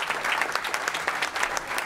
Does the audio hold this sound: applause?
yes